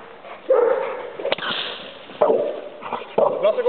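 Dog barking on command during obedience training, several short yips and barks spaced across a few seconds, close and moderately loud with sniffing in between.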